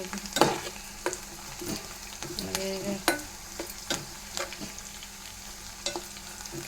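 Food frying in a pan until reddened sizzles softly and steadily, close by, with a utensil stirring and scraping at intervals.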